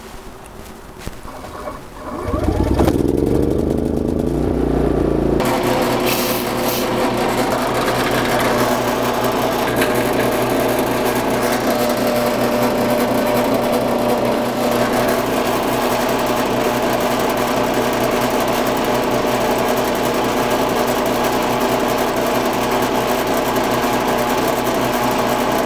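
A drill press boring holes in pieces of metal, powered by a MaXpeedingrods MXR 3500W dual fuel inverter generator, starts with a few rattles, then settles into a loud, steady motor whine with a buzzing mechanical drone.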